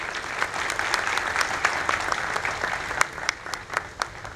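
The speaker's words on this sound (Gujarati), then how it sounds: "એમને આપણે જોરદાર તાળીઓથી વધાવીએ" An audience at a Ram Katha ground-breaking ceremony in Surat applauds loudly, with dense continuous clapping and a few sharper individual claps standing out toward the end.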